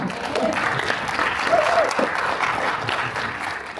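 Applause from an audience at a veterans resource fair evening event fills the room, steady and moderately loud for a few seconds with no speech over it.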